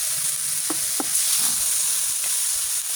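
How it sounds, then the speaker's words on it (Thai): Chinese kale being stir-fried with salted fish in a hot pan sizzles in a continuous hiss, with a few sharp clinks and scrapes from the spatula on the pan partway through. "พยายามให้ ผักคะน้าค่ะโดนกระทะแบบ ดีๆ เขาจะเขียวสวย แล้วก็สุกง่ายค่ะ"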